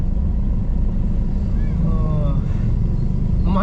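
Steady road traffic rumbles nearby, a continuous low engine drone with a faint horn-like tone briefly rising near the end, under a speaking voice.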